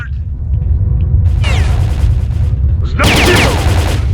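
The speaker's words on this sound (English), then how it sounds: "I was not expecting this kind of a shootout battle type thing already." Gunfire in STALKER Call of Pripyat: two dense bursts of rapid shots crackle loudly over a low rumbling bed, the first mid-clip, the second stronger near the end.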